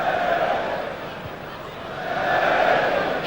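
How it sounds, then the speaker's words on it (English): Crowd at a Leeds United versus Beşiktaş football match in a stadium, a broad steady roar that swells and rises toward the end, heard from a distance as continuous cheering. "Cheers from the crowd as Leeds start to string the passes together."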